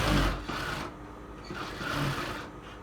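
A sewing machine stitches a hook strip onto a lining blouse, running in two short bursts of fast whirring with a brief pause between, close and fairly loud, with no voice.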